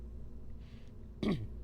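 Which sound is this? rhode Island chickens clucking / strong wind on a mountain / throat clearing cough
throat clearing cough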